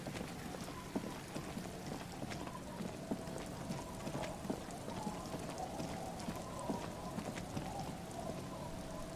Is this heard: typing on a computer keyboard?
no